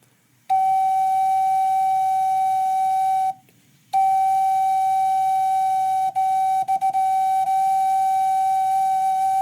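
An ocarina holds a single steady, pure note, pauses briefly, then sounds the same note again with a few tiny breaks.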